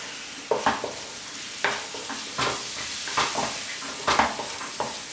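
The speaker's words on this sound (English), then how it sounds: "Cut up our beef and carry on cooking." Beef stirred through spiced oil in a pan for a Durban bunny chow curry, with a close, steady sizzle broken by repeated scraping strokes of the spoon at an uneven rhythm. No one speaks.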